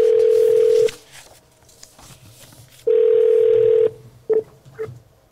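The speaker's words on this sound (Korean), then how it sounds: "전화를 연결해서" Telephone tones while a call connects: two long, loud steady ringback-style beeps separated by a gap, followed by a couple of short blips, heard close and clear with faint background noise between.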